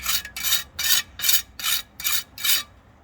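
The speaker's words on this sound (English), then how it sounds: "And then scrape your excess off." Seven rhythmic rasping scrapes as excess grout is scraped off freshly laid porcelain tiles, close and even, each stroke about a third of a second, with no talking.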